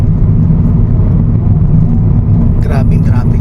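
Heavy traffic on the NLEX expressway in Luzon, with vehicles counterflowing: a steady, loud low rumble of car engines, with a brief higher hiss of a passing vehicle near the end.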